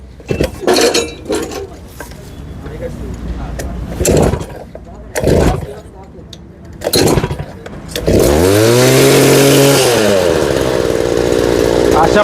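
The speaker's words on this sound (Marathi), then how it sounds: "इथं पेट्रोल दुसरे पाईप फुल असे इयर निघला की मशीनला स्टार्टर मारूया" A petrol-engined mini cultivator power weeder gets several sharp pull-start attempts, then catches and runs with a loud, steady close engine drone that rises and settles in pitch; people talk during the starting.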